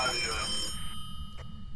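In the horror game Phasmophobia, an old telephone rings in a haunted house, a bright bell tone fading out after about half a second over low background noise.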